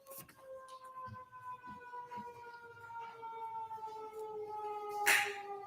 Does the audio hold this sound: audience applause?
no